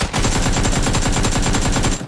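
Sustained automatic gunfire from a sensitivity-tuned weapon in a shooting video game, a loud, rapid, evenly spaced burst of shots lasting about two seconds with no talk over it.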